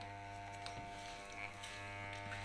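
An electric hair clipper buzzes steadily and fairly quietly while cutting hair, holding one even hum with faint crackles as it moves.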